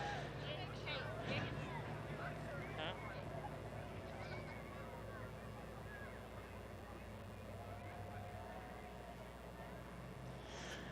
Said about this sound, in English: Honk your horn, make some noise as he makes her way to you